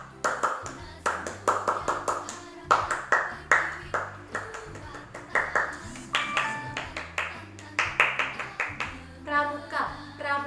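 Indonesian scout group doing the tepuk pramuka, a rhythmic patterned clap repeated three times, crisp close hand claps in quick bursts with voices chanting between them.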